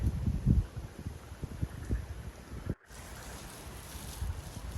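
Strong wind blowing by the sea at the edge of a forest, a steady roaring rush with gusty buffeting and rumbling on the microphone, with no voices.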